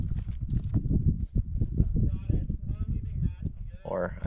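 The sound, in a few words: goat's hooves clambering down rocks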